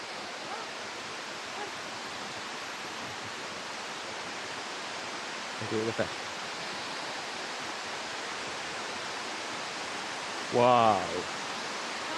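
Broad, steady roar of a waterfall at a flood camp, constant and close, with a couple of short spoken exclamations rising above it.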